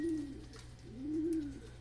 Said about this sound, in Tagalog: may dumating tayong ibon, hindi yun eroplano yan